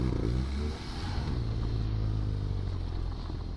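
A BMW R nineT Urban G/S motorcycle pulls away under acceleration with traction control active, its engine note rising then holding at a moderate, slightly distant level.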